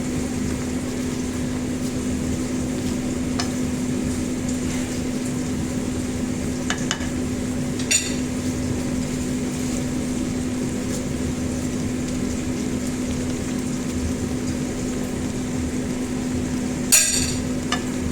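Pechay and sardines stirred in a pan: a steady, even sizzle with a few sharp scraping clinks from the utensil, and no talking.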